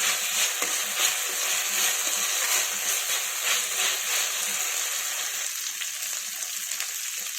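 Ginger garlic paste fries in hot oil, giving a steady, bright sizzle with soft crackles and occasional stirring scrapes, close and continuous without voices.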